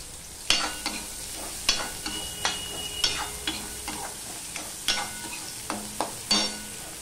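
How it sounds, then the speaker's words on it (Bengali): Onion frying in oil after a nigella seed tempering for a Bengali spicy prawn curry: a steady sizzle with repeated sharp scrapes and clinks of a stirring spoon against the pan, close and moderately loud, with no talking. "কালো জিরাটা ফোড়নে হয়ে গেলে আমি এখানে দিয়ে দিলাম পেঁয়াজ।"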